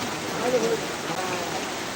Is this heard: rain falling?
yes